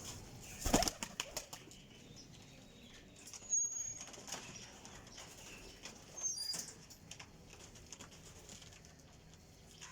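A high-flyer pigeon beats its wings in a few sharp bursts while held in the hand, quick flapping flurries with quieter gaps between, close and fairly faint overall.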